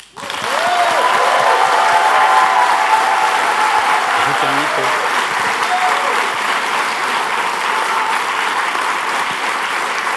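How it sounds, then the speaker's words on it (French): Thunderous audience applause fills a hall at the prize ceremony of the Swiss final of Ma thèse en 180 secondes 2019, a dense, loud, sustained roar of clapping that holds steady for the whole stretch. "le prix du public qui est un tonnerre d'applaudissements"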